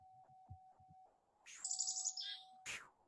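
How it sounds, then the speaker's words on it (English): Chickadee contact calls, a few high, thin chirps and buzzy notes that come in short clusters over a faint steady tone and some soft low thumps, heard fairly quietly. "They have contact calls."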